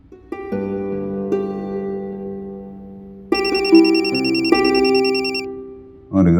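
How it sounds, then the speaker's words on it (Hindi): A telephone ringer in a Hindi TV drama scene rings in repeated bursts, loud and close, with a brighter, shriller ring pattern joining partway through; no one speaks over it. "हाँ, रिंगर तो चल रहा है"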